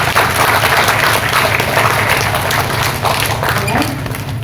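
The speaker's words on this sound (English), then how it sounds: "Can you please give yourself a round of applause?" Convention audience gives a loud round of applause, dense sustained clapping from a large crowd in a hall with a low hum underneath, thinning slightly toward the end.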